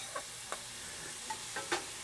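Butter sizzles steadily in a hot pan, a constant crackling hiss broken by a few soft clicks of stirring, close and alone.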